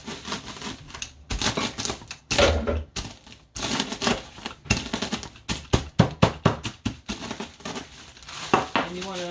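A rolling pin pressed and rolled over a plastic bag while making double stuffed chicken tacos, giving repeated crinkling, crackling bursts in an uneven rhythm close up, with voices talking now and then.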